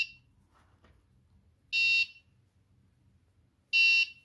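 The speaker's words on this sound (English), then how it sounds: "we are receiving an alarm from the buzzer" An Arduino soil moisture sensor's buzzer alarm sounds in two short, loud, shrill bursts about two seconds apart, with near silence between them.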